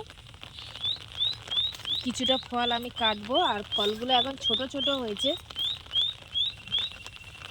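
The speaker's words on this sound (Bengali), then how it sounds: "কি সুন্দর একটা পাখি ডাকছে দেখছেন তো" A small bird chirps in quick, regular repeated notes throughout, while a person talks nearby over a soft background hiss.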